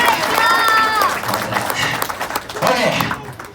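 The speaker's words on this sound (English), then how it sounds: "So let's give him a round of applause." An audience at an alligator show at Reptile Gardens breaks into steady, close clapping, with a couple of high whistles and scattered voices over it, swelling again near the end.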